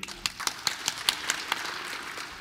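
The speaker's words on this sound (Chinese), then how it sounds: "请大家用热烈的掌声" Applause for the veterinarians' union chairman at a Kaohsiung City Council session, a short burst of scattered hand claps spread across a hall, moderately loud and thinning out toward the end.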